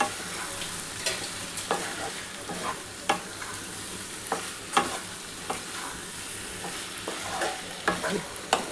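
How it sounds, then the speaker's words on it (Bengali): Prawns and potatoes frying in a pan, with a constant sizzle under repeated sharp scrapes and knocks of a spoon stirring the mixture, close and fairly loud, with no talking. "এবার এই চিংড়ি মাছটার সাথে খুব ভালো করে কষাতে হবে।"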